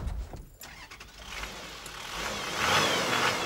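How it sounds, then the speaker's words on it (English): A 1981 Toyota Land Cruiser wagon with a diesel engine drives past, a steady engine rumble mixed with road and wind noise that swells louder toward the end. "Now they're back with this diesel-engine Land Cruiser."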